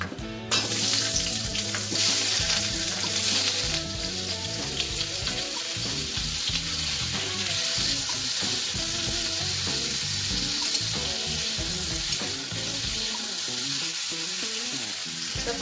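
Drumstick pieces and potato fry in hot mustard oil in a kadai for a drumstick and potato curry, giving a continuous loud, close sizzle and crackle with some stirring and a watery hiss.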